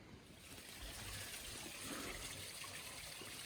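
Water trickling from a small spring in a Carpathian forest, a soft continuous gurgling flow heard faintly at close range without voices.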